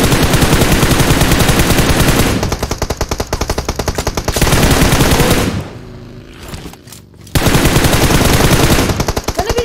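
Loud, sustained automatic gunfire in the mobile shooter PUBG Mobile fills the clip with dense rapid bursts and only a brief lull near the end before firing resumes, with no voices.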